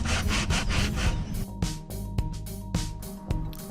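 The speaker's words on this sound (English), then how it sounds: "sand this down so it's smooth." Hand sanding of dried wood filler on cracked, splitting wood, a series of close, rhythmic rasping back-and-forth strokes, each one a distinct gritty scrape, with no talk.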